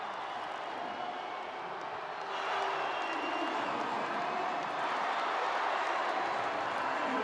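Crowd noise fills a basketball arena in Tbilisi during a tense Georgia versus Iceland World Cup qualifier, a steady, spread-out roar that swells slightly partway through.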